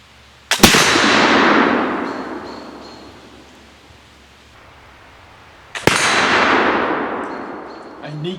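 Two loud rifle shots from an early Lancaster County rifle, roughly five seconds apart, each a sharp crack followed by a long ringing decay that fades slowly.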